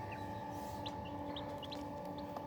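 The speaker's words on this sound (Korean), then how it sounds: "세상에서 가장 큰 닭, 세상에서 가장 작은 닭" Buff Brahma and Serama chicks peep in short, high chirps scattered over a steady hum of hatchery equipment, fairly faint and with no talking.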